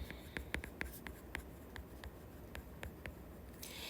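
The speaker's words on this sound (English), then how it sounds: "so we'll write that down." Pen or pencil writing a math formula on paper, with quick soft scratchy strokes and taps in an irregular rhythm, close and quiet.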